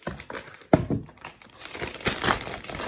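A 2-gallon plastic freezer bag holding soup crinkles and rustles as it is slipped into a second bag, with a sharp thump and scattered crackling handling noises up close.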